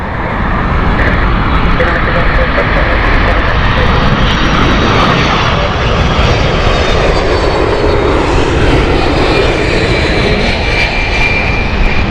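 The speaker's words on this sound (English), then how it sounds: "United here, 767-300 from New York. Newark Airport." A United Boeing 767-300 jet from Newark roars loudly and steadily as it passes near Heathrow Airport, a broad continuous engine rumble that fills the whole stretch.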